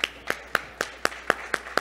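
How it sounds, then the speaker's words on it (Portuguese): Eight sharp claps at an even, steady rhythm, close and fairly loud, given as a round of applause for a technical crew at an in-person trade fair at Center Norte. "Uma salva de palmas."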